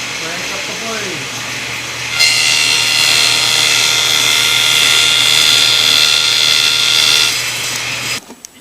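A Jet table saw spins up, its motor hum joined at about two seconds by a loud, steady high whine of the blade running free that holds for several seconds before cutting off near the end; close and without talk.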